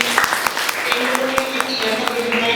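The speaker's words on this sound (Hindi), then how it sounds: "तो इन सब के लिए थोड़ी सी ताली हो जाए लोगों की" An audience at a professional networking training session claps, with sparse, uneven hand claps mixed with a murmur of voices and some talking underneath.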